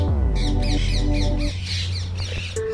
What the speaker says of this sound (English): So those are parrots.